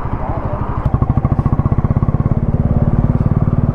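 A Royal Enfield Classic 350 BS7 2024 motorcycle rides along at steady speed, its single-cylinder engine thumping in a loud, even pulse close by, growing slightly in intensity midway with no one speaking over it.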